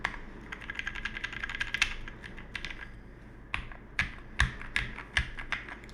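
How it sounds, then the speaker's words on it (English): Typing on a prebuilt tray-mount mechanical keyboard, a steady run of close, crisp key clicks that gives way to sparser, heavier spacebar thocks in the second half, with no voices. "Spacebar sounds really good."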